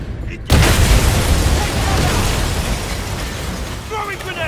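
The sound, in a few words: grenade explosion in a James Bond 007 video game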